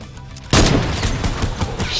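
Loud, dense automatic gunfire from a battle royale video game bursts in after a short quiet moment and keeps rattling steadily to the end, with no talk over it.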